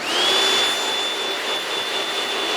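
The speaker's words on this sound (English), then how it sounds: "This freaking vacuum has a ton of pull." A RIDGID shop vacuum runs steadily and loud throughout, its motor whine rising briefly at the start and then holding a constant high pitch over broad rushing airflow noise.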